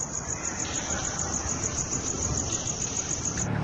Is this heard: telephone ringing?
no